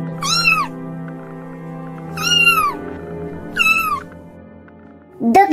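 A kitten gives four clear, high meows spaced a couple of seconds apart, close and fairly loud over a soft background of steady music.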